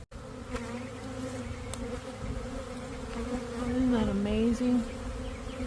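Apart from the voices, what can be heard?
swarm of bees being relocated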